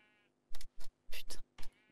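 Sheep in a video game bleating in five short, separate calls spaced close together, clear and alone against a quiet background.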